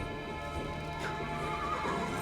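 A horse whinnies once, a clear neigh rising over soft background sound, with a faint hint of hoof clops, heard close and alone without talk.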